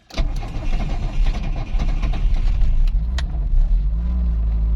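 A Lada Samara 1.5 car that had not run for a week cranks and its engine catches, then settles into a loud, rough idle that carries on steadily to the end.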